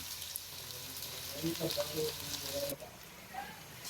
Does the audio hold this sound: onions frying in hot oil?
yes